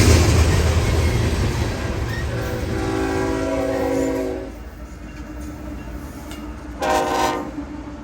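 An intermodal freight train rolls past in Folkston, Georgia, its steady rumble overlaid by a long, loud chorded horn blast, then a quieter stretch before a second short horn sounds.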